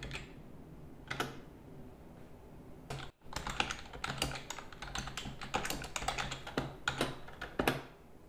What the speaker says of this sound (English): So we just need to type an @ symbol and then followed by their name.